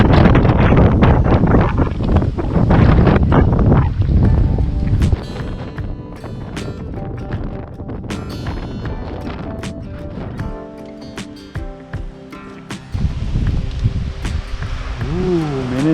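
Wind gusting hard against the microphone on a windy day of a northbound Te Araroa hike near Breast Hill, a loud steady buffeting roar that eases midway, with rustling and footsteps beneath.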